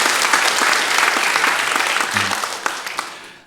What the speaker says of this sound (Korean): 우리 보이지 않지만 우리 박수로 우리 한번 환영하도록 하겠습니다